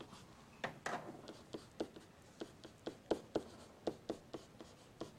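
A pen writes during a math lesson, giving a series of sharp, regular strokes and taps, close and fairly quiet, with no talking over them.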